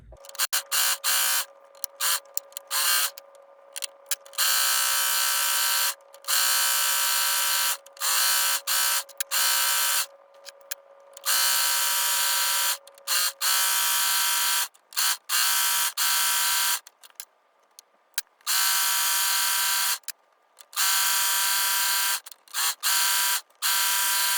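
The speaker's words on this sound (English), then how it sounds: "we are all done serging, so we can go ahead and put the serger away." A Brother 1034D serger runs in repeated bursts over fabric, a steady loud buzzing whir that starts and stops with brief pauses, no voices.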